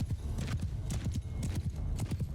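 Horses galloping in Mount & Blade II: Bannerlord, a rapid, rhythmic clip-clop of hooves, close and fairly quiet, with no talk over it.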